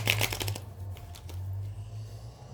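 Oracle cards shuffled by hand before a draw, a quick burst of riffling flutters at the start that fades into quieter rustling, close and without talk.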